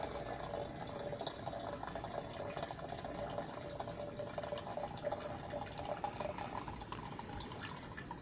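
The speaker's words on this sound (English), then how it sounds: "let's pour this solution, silver solution, into this beaker" Silver solution pours into a beaker as a steady, fairly quiet liquid trickle and splash that runs unbroken throughout.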